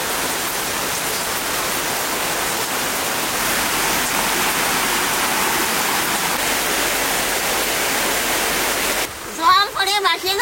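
Torrential downpour on a festival day in Bengal, a dense steady roar of heavy rain that holds loud and unbroken for most of the stretch before giving way to closer clattering and handling noises near the end.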